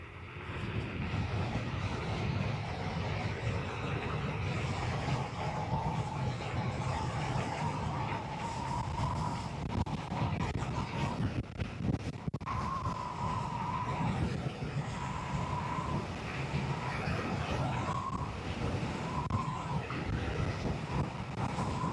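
A modified Ninebot Max G30 electric scooter running flat out at top speed on a single motor: a steady motor whine rides over heavy, continuous wind rush for about twenty seconds, with no talking.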